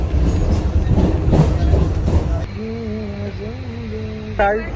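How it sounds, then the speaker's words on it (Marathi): A small toy train at a water park rumbles along with steady rolling clatter, loud and close, for about half the clip. After that comes a quieter stretch with tonal whines and a brief squeal near the end. "तर आम्ही काकू ट्रेनमध्ये बसलो"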